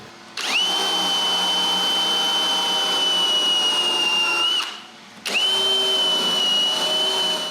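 Power drill boring holes into wooden bookcase panels, a steady high whine running for about four seconds, dropping off briefly, then starting again for a second long run; loud and close with no talking.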